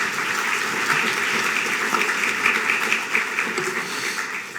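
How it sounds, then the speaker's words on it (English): Attendees at a Pancakes & Politics forum give the event sponsors a round of applause, hearty clapping that holds steady for several seconds before starting to thin out near the end. "Give them all a round of applause, please"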